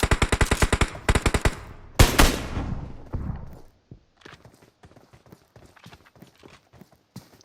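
Gunfire in a shooter video game, opening with a rapid burst of repeated shots, then a pair of heavy blasts that ring and decay, followed by sparser scattered pops at lower level.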